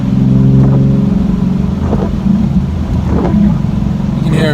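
A Nissan 370Z with a muffler delete revs loudly and close by, its deep exhaust drone broken by a few crackling backfire pops.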